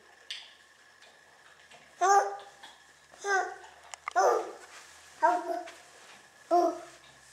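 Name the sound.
child imitating a dog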